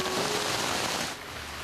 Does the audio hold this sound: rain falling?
yes